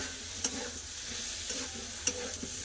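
Water poured into a pan of spices frying with cumin powder, making a steady sizzle with a few sharp clinks of a stirring spoon, close and moderately loud with no talking.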